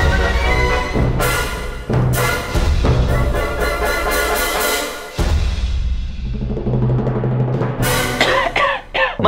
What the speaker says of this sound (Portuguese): já fazia até tempo que eu não começava o vídeo tossindo assim